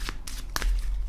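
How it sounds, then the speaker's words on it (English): A deck of animal oracle cards made of cardstock gets a quick shuffle, two or three brief papery riffles close by with no talk. "Let's have a look at these cards, shall we? All right, give them a shuffle."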